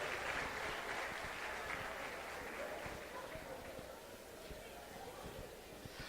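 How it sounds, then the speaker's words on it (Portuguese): A church congregation applauds at a Sunday celebration service, a steady wash of clapping filling the whole span while voices carry underneath. "vamos aplaudir o Senhor"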